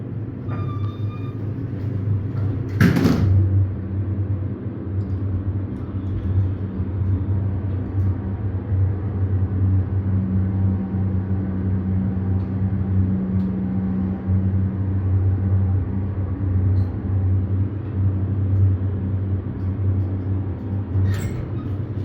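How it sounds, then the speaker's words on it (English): An International hydraulic elevator at a shopping mall department store runs its motor with a steady low hum and rumble, and a brief door clunk sounds near the start. "We'll try to listen to the motor again."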